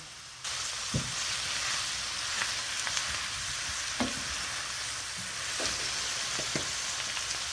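Onions for onion jam fry in a pan with a steady close sizzle that starts abruptly, broken by a few sharp stirring knocks and scrapes, with no talk.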